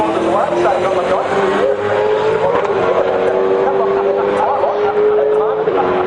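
A V8 touring race car howls past at full throttle on the Mount Panorama circuit at Bathurst during the 2011 top 10 shootout, a loud sustained engine note rising through the gears over a continuous crowd-like roar, with commentary over it.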